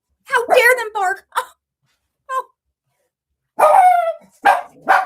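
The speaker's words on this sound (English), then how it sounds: "Oh my God, the neighbor's dogs are barking." A neighbor's dogs bark in short bursts of several close, loud woofs with gaps between them, heard near and clear with no talk over them.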